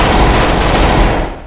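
Gunfire sound effects for a staged basement battle, a dense, loud, continuous roar of overlapping shots lasting just over a second before tapering off.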